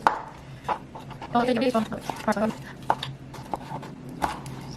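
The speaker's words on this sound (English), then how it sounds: "I'm gonna chop it slightly fine." A knife chops tomato finely on a board, giving a few scattered close taps under a talking voice that carries through most of the clip.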